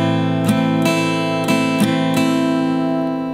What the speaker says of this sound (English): that strumming pattern will sound like this